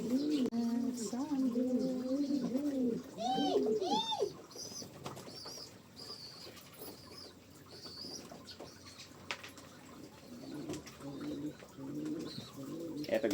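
Young pigeons coo in a loft, a run of soft throaty warbling coos close by, with rustling, faint flapping and other bird calls continuing in the background.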